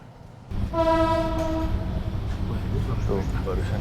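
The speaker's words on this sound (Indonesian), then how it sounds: "Tuh, barusan lewat tuh keretanya." A train passes near the road during a long car drive from Bandar Lampung to Tangerang. A loud multi-tone horn blast sounds early, followed by rumbling rail noise, with faint voices inside the car.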